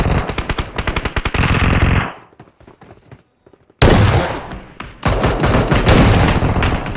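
Sustained automatic gunfire in PUBG Mobile, loud and near, with long rapid bursts, a brief quieter gap of scattered distant shots, then more heavy close bursts.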